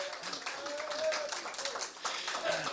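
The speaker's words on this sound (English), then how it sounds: "Give him a big hand, a hoot, a holler," An audience claps and cheers for a man being called up to the stage at a public speaking club meeting, a steady spread of hand claps with whoops and voices mixed in, fairly distant and moderately loud throughout.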